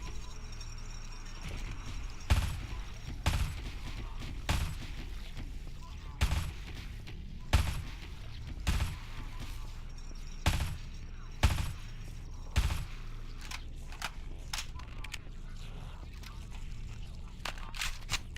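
Shotgun blasts from the video game Halo SPV3, roughly a dozen loud, sharp booms spaced a second or so apart over a steady game backdrop, with faint talk in places.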